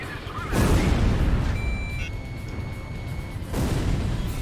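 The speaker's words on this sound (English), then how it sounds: "loud explosions in this game, though" Loud explosions in the Ace Combat video game: heavy booming blasts with dense rumbling noise, one burst near the start and another near the end, over continuous engine-like roar, with no talking.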